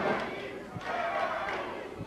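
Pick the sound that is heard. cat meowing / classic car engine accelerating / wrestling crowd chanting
wrestling crowd chanting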